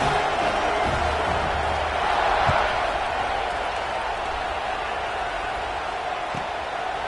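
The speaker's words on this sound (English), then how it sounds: "this crowd is buzzing after that last score" Stadium crowd at an HBCU Legends league football game, a steady broad roar buzzing after a score and extra point, with a swell around the middle and a play-by-play voice talking over it.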